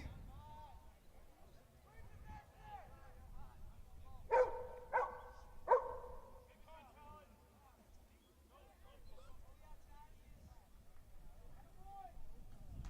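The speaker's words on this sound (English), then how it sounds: "you could hear on camera, but that was Benny the dog barking" A dog barks three times in quick succession, distant and sharp, over the murmur of a crowd at a high school lacrosse game between Benedictine and Padua, with a commentator talking throughout.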